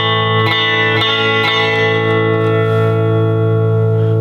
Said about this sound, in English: I think that's just the reverb from the amp we're hearing